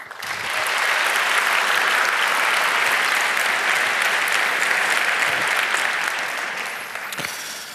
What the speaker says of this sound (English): But welcome him with a big round of applause, Claudio Guarnieri, security researcher with